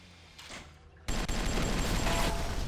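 Gunfire in BioShock erupts suddenly after a quiet second, a loud, dense, continuous barrage of shots that roars steadily to the end of the clip.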